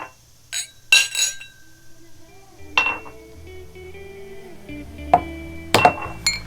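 Whiskey glasses clink together in a toast during a bourbon tasting, a few bright, short chinks scattered over several seconds, close and clear with quiet room sound between.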